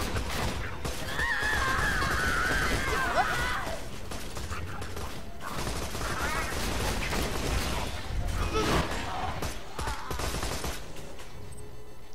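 Rapid video game gunfire in Borderlands 2, with bursts of shots and mechanical clanks running continuously under players talking over each other.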